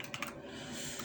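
Brief, quiet tapping of keys on a computer keyboard, a few light clicks at the start over a faint steady room hum.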